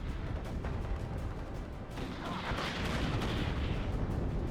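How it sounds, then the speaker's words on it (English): Artillery fire in the WARNO strategy game rumbles as a continuous wash of distant booms and crackling impacts, fairly faint, swelling slightly in the second half with no talking. "Really nice artillery by the opponent though."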